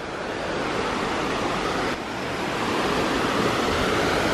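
Rushing water at an outdoor waterfall near Portland pours out as a loud, steady, unbroken roar of broadband noise, with no voices over it.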